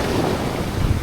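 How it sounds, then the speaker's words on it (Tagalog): Ocean waves wash steadily near the shore as the tide rises, a continuous broad surf hiss mixed with wind buffeting the microphone. "Swabe yung alon."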